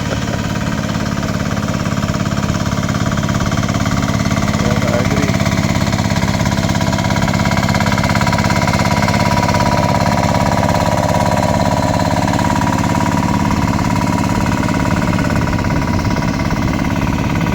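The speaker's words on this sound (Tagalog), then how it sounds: "dahil sa ingay ng motor" A motor engine runs loud and continuous during rice transplanting in a field, a steady rattling drone with no breaks for the whole stretch.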